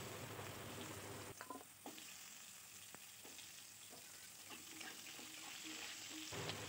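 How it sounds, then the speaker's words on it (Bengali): Potatoes and vegetable stems with cumin seeds frying in mustard oil for Bengali fish curry: a faint, steady sizzle with occasional light stirring clicks, no speech. "তেলের মধ্যে ফোড়নের জন্য দিয়ে দিচ্ছি জিরে, দিয়ে দিচ্ছি কেটে রাখা আলু ও ডাঁটা"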